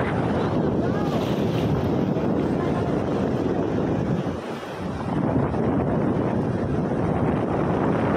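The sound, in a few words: strong wind and sea waves on the coast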